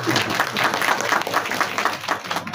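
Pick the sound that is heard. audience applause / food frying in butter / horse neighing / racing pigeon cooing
audience applause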